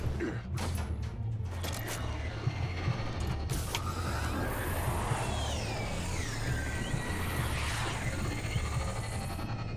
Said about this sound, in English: I'm opening the doors.